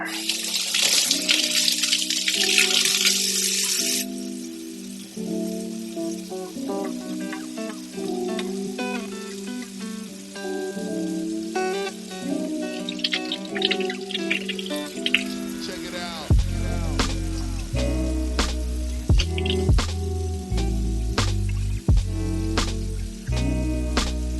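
Tap water runs over food to loosen and rinse off the remaining skin while making tofu taquitos, a steady splashing stream under background music, with a voice talking over it.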